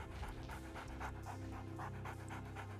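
A dog pants quickly and rhythmically in the video game Cabela's Survival: Shadows of Katmai on the Wii, close and clear over a low game background.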